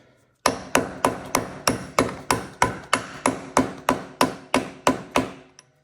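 A hammer repeatedly strikes a 1-inch socket held backwards, driving a bearing seal into place: about fourteen evenly paced, loud, sharp metallic blows, close up and with no talking.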